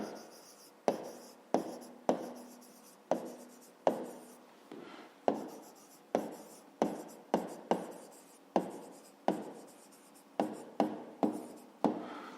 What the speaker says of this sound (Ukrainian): Ну що ж, записуємо відповідь.